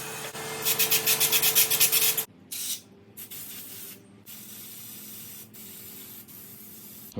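A can of cleaner sprays into the carburetor of an old lawnmower in a quick pulsing series of loud hissing bursts. A few shorter hisses follow, and faint handling noises come between them.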